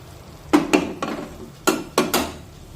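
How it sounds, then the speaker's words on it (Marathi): A ladle stirs masala with a little added water in a kadai for a masoor dal amti, giving about five distinct scraping, clanking strokes against the metal pan over a soft background hiss, close and fairly loud. "मिक्स करून घेऊया मसाल्यामध्ये"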